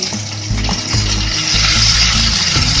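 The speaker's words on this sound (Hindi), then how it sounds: "इसमें हमें स्लाइस प्याज डाल देते हैं" Sliced onion drops into hot oil already holding cumin seeds, dried red chilli and chopped ginger, and a loud close sizzle rises and stays steady with light stirring scrapes.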